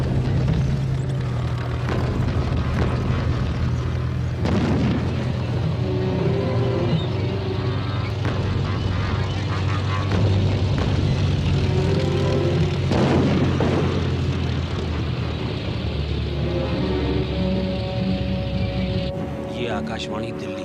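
Artillery fire and explosions from a war film about an Indian-Pakistani war battle, with tanks, as a continuous heavy rumble with booming blasts and shouted voices over it.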